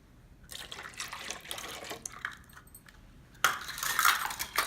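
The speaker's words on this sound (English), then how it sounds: "So we are adding 2 cups of milk." Two cups of whole milk pour into waffle batter in a bowl, a soft liquid splash that starts quietly and grows louder and fuller toward the end.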